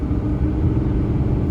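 Diesel truck engine rumbling steadily at low load after backing off the throttle while towing, a close, continuous drone with no talk.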